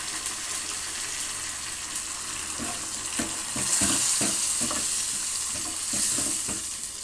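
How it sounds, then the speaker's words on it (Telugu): Hot tempering poured into punarnava leaf dal, giving a continuous sizzle that swells with bursts of crackling and utensil scrapes midway, close and without talk. "పోపు వేగిపోయిందండి, వేసేస్తున్నాను"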